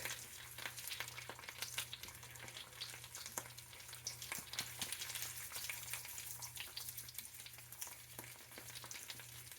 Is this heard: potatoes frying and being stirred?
yes